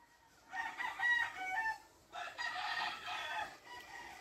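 A yellow, one-eyed fighting rooster weighing four pounds gives two drawn-out crows in succession, faint and somewhat distant, with no other sound around them.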